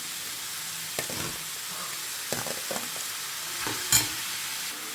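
Cabbage, capsicum, carrot and beans stir-fried over a high flame, a steady sizzle with several sharp scrapes and clacks of a spatula tossing the vegetables, close and without talk.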